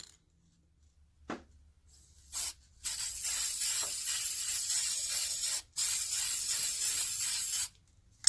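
Bursts of sealer spray onto glass candle holders, a short puff followed by two long, steady hissing sprays separated by a brief pause, loud and close.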